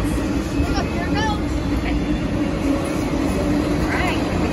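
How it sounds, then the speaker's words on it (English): Long freight train rolling past the Williams Ave crossing in Madison, Tennessee, a steady loud rumbling rush with faint wheel squeals, close by. "There it is. There's the end. Wow, what a train."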